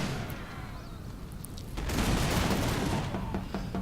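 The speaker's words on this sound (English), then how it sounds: "Come on, musketry fire." Musket volley fire from the Empire Total War battle game, heard as a muffled, distant rolling crackle of many shots that swells midway and continues as a dense rumble without speech.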